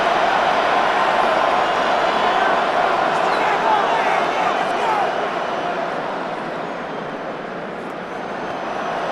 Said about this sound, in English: This crowd, they're trying to force a false start. What noise before 3rd and inches.